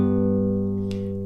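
Fingerpicked acoustic guitar notes from a song, a pair of notes with the 2nd string plucked by the index finger, ringing steadily and close with a faint tap partway through and no talk.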